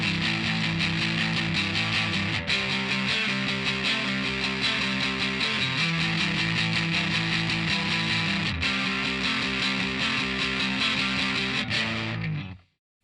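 A distorted electric guitar plays the punky outro of a song, a dense, continuous run of driving power chords that cuts off abruptly at the end.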